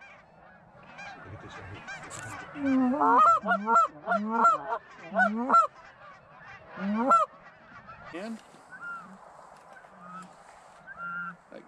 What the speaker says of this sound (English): That goose has got his head up and he's looking.